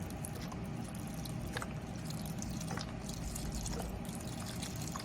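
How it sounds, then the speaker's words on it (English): Beef broth is poured into a stroganoff mixture as a soft, steady liquid trickle and splash, fairly quiet and continuous throughout. "to that, we are going to add our beef broth"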